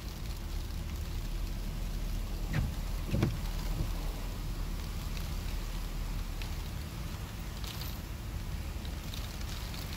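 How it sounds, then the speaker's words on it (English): Heavy rain pours down at a state park near a boat ramp as a steady, fairly faint wash of hiss with a few brief knocks and no voices. "pouring down rain at the moment"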